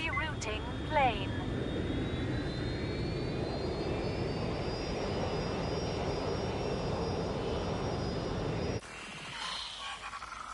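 Airplane flying in Watch Dogs Legion, a loud steady jet engine roar with a rising whine that drones on for several seconds before cutting abruptly to quieter sounds, with voices talking over it.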